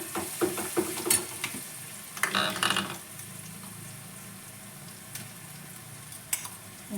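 Onions sizzle in a pan as spice masala is added, a steady frying hiss broken by the scraping clatter of a spoon stirring against the metal.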